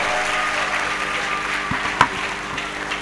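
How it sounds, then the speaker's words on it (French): Steady audience applause at a festival panel fills the space, a dense wash of clapping at moderate volume with a couple of sharper thumps partway through. "on peut applaudir bien fort pour Kamara Yakuba"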